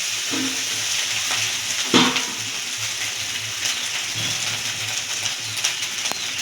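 Ground cumin, coriander, chili and turmeric powders sizzle and fry in a pan for a Bombay duck fish curry, with steady crackling and occasional scraping stirs and clinks of a spoon close up.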